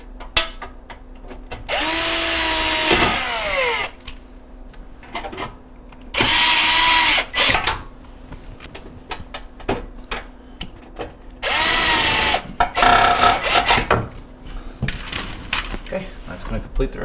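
A cordless power drill drives screws into the bottom panel of a Whirlpool dishwasher, three loud whirring bursts of a couple of seconds each separated by clatter and handling noises.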